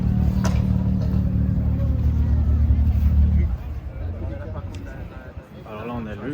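A Porsche Cayman GT4 RS at a car gathering in Ambérieux d'Azergues gives a deep, loud engine rumble for a few seconds, then drops off, leaving crowd chatter and passing traffic nearby.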